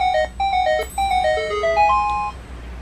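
A mobile phone plays a melodic ringtone, a sequence of bright electronic tones running close and loud for nearly three seconds with no talk.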